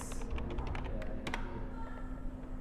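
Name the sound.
typing the word backlinks on a computer keyboard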